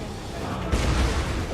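A hell cannon firing during a Total War Warhammer battle: a sudden heavy boom cutting through dense, rumbling battlefield noise, loud and close with a sustained roar afterward.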